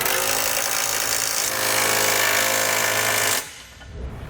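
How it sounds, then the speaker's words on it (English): Pneumatic impact wrench with a 3/4-inch socket snugging bolts and nuts on a Curt trailer hitch under a 2015 Ford Explorer, a loud continuous hammering rattle lasting over three seconds before cutting off to quieter background. "Then you're going to come back with a 3/4-inch socket and snug up all the bolts and nuts."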